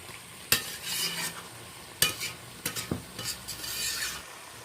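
Hilsa fish head curry with pumpkin and ridge gourd is stir-fried in a pan, with repeated scraping strokes of a spatula over a low sizzle, several sharp scrapes standing out close and clear.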